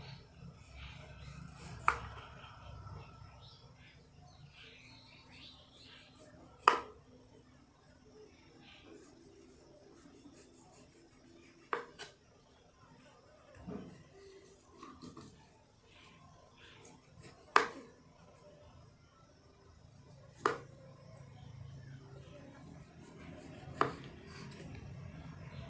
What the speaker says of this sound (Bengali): এই পাকা আমকে সুন্দরভাবে ধুয়ে নেওয়ার পর এই ওপরের ছালটি ছাড়িয়ে নিতে হবে।